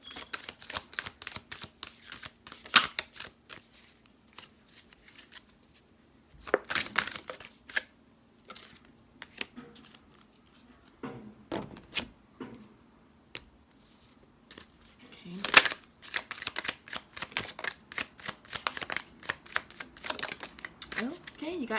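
Oracle deck cards are shuffled and drawn, giving quick papery riffles and slides in bursts, with intermittent talk between them.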